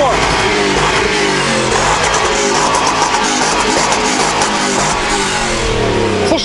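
A V8 engine in a GAZelle van runs with a loud, rough, motorcycle-like rumble that holds steady and close throughout, with no clear talk over it.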